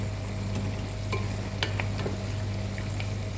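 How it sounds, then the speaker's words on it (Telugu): Chicken pieces frying on a low flame in a pan, a steady close sizzle with occasional scraping clinks of a spoon stirring, no voices. "ఇలా సిమ్లో పెట్టుకొని బాగా గోల్డెన్ కలర్ వచ్చేటం వరకు మనం ఈ బాగా వేపుకోవాలండి"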